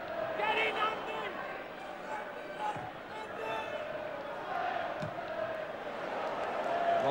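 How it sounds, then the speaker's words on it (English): A large crowd of nearly 19,000 at a 1982 football match roars and whistles as a steady mass of noise, with a commentator speaking over it. "The crowd imploring the referee to blow the final whistle."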